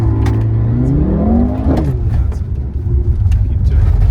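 A Mercedes-AMG car is driven through a gymkhana course around cones at the Zwartkops circuit. The engine roars loudly and close, and the revs climb and then drop sharply, while a voice talks over it.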